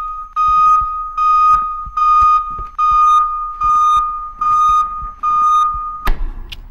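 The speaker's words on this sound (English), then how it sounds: "My fire alarm?" A fire alarm in the horror video game Minds Eyes sounds loudly in about six repeated pulsing bursts of a piercing beep, then stops with a sharp impact-like noise.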